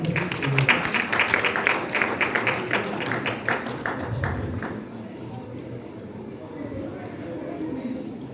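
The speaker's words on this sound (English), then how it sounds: "May we once again give you a sounding applause for this wonderful" Audience applause at an international paper, publishing and printing expo, dense clapping for the first few seconds that thins and fades out by the midpoint, leaving quieter room ambience.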